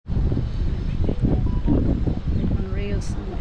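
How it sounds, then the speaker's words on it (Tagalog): Wind buffets the microphone steadily on a beach at Pompano Beach, a constant blustery rush with people talking over it throughout. "Mahangin sa labas."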